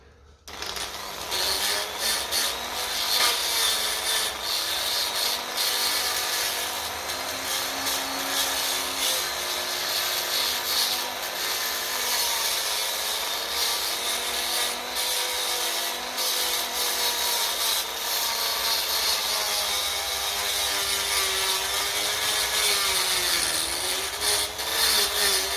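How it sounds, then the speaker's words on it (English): A Dremel rotary tool cleans metal on a 1957 Ferguson FE35 TVO tractor engine, a continuous high grinding whir with shifting pitch, close and steady for the whole stretch with no talk. "The Dremel,"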